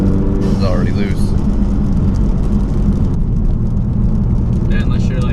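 A Ford EcoBoost Mustang with a muffler delete and catless downpipe cruises along, its low droning exhaust and engine hum heard steadily from the cabin while people talk briefly over it.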